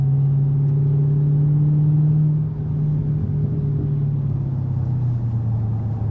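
A supercharged 6.2-liter V8 in a 2023 Dodge Challenger Black Ghost rumbles loudly and steadily up close, its deep engine drone shifting pitch slightly as it revs and settles, with no voices over it.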